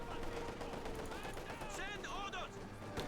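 Heavy machine gun fire crackles in Company of Heroes 2 during a Soviet versus German battle, a dense, fairly quiet clatter of gunfire under constant, busy game noise and overlapping talk.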